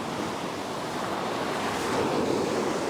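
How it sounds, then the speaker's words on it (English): Ocean waves surge and suck back on a fishing beach in overcast weather, a continuous hissing wash of surf with some wind buffeting the microphone, swelling louder toward the end. "feel that water sucking back"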